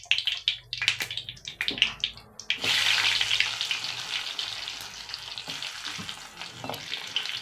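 Garlic and onion frying with dry chilies in mustard oil, a loud close sizzle that swells suddenly and then hisses steadily, broken by clinks and scrapes of stirring in the pan.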